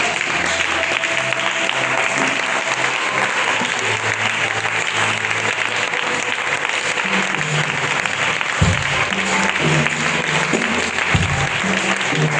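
Loud, continuous applause from a church congregation acclaiming Jesus, a thick wash of clapping that holds steady throughout, with sustained musical chords from instruments running beneath it.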